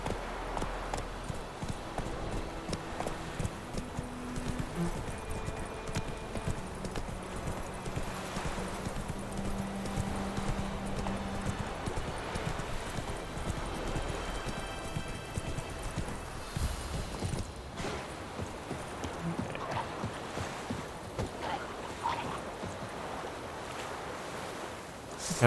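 Horse hooves clip-clopping in The Witcher 3 game, a steady walking rhythm near a beach, with surf and wind in the background and a few game tones.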